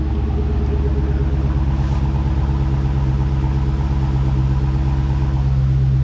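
A Hemi V8 with an MDS delete kit idles smoothly and steadily at close range, a deep continuous rumble with no misfires or breaks, and no voices over it.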